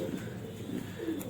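Soft, low pigeon cooing murmurs steadily throughout, close by, with a faint background hiss and no talking.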